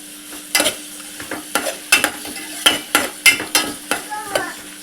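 Chopped ginger, onion and two chilies fry in a pan for a chicken stew curry, with a close, loud rhythm of scraping spatula strokes over a light steady sizzle.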